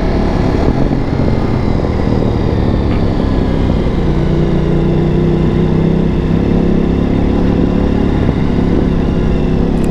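A Ducati Multistrada V4 adventure motorcycle under way, its engine droning loud and steady with tonal bands shifting slightly as gears change smoothly, heard from the rider's position with no talk.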